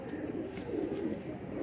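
Domestic pigeons kept in pairs for sale cooing softly in a steady low murmur, close by, with faint voices in the background.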